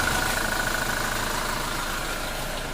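A 2023 Toyota Innova engine idles steadily just after an oil change, a constant close mechanical hum with a faint whine, running alone without talk.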